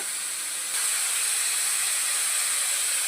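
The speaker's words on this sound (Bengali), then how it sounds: "এবার এটাকে কড়াইতে দিয়ে একটু নাড়াচাড়া করছি পেঁয়াজ দিয়েছি কালো জিরে ফোড়ন কাঁচা লঙ্কা চিড়ে দিয়েছি" Ridge gourd with onion and green chillies frying in a wok, a loud continuous hiss of hot oil that jumps up sharply after a moment and then holds steady.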